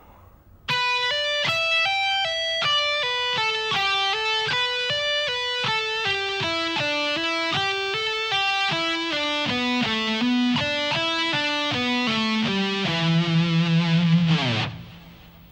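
Distorted electric guitar plays a steady pentatonic sequence of single notes descending through the scale, ending in a brief bend before stopping.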